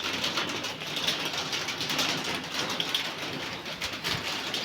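Steady rain falls in a rural village setting, a dense continuous hiss of drops on surfaces, fairly close and even, with faint bird calls in the background and no talking.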